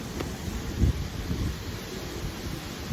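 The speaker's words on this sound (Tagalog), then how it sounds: "gaano kalakas yung hangin dito." Gusty afternoon wind in Hsinchu, Taiwan, buffeting the microphone with a low rumble, steady roar and a stronger gust near the start, no voices.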